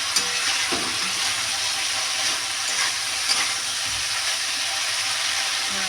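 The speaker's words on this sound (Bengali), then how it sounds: "ঢাকনটা তুলে দিয়ে নাড়ি চাড়িয়ে নেবো" Curry masala with carrots and potatoes being stirred in a pan after the lid comes off, a steady close sizzle and hiss with soft scraping strokes underneath, continuous throughout.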